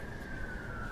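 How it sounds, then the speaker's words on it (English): An emergency vehicle siren passes by as one steady, continuous wail that drifts slowly down in pitch, fairly loud and close, with no talk over it. "Sorry about the siren."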